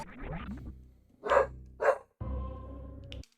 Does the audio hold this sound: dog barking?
yes